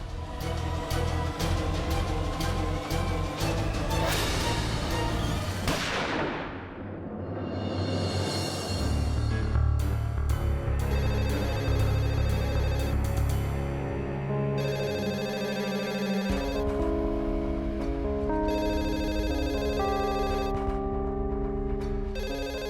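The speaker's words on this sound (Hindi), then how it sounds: "डब्बू का फोन आया होगा कहने के लिए कि सब कुछ ठीक है।" A melodic mobile phone ringtone plays loudly and continuously with layered musical tones and shifting patterns, filling the whole stretch without any voices.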